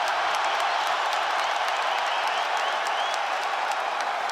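A packed arena crowd roars and cheers during a wild UFC fight, a loud, continuous hiss of voices and clapping that holds steady throughout.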